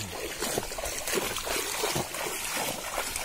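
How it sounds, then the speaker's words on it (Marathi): Water flows through a channel in a paddy field in the Konkan region, a soft, steady trickle and gurgle close by, with small splashy bursts throughout. "तरी पण जाम चाललंय पाणी."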